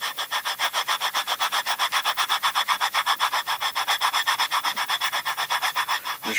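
Two brake pads rubbed firmly against each other, giving a fast, steady series of close, rasping scrapes with an even back-and-forth rhythm and no voices.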